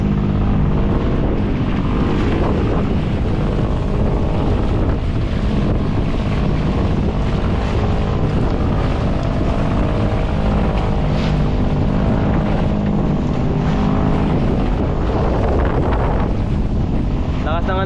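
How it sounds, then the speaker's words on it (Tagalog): Strong northeast amihan monsoon wind buffets a small fishing boat at sea, roaring and thumping against the microphone in a loud, unbroken rumble over splashing water and engine noise. "Ratsa ng hangin. Tumatagos dito sa likod. Kahit nakakupli na kami. Lakas pa rin ang amihan dito sa amin"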